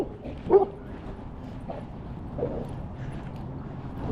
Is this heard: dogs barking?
yes